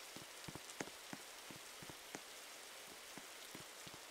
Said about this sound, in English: Why did it start raining all of a sudden?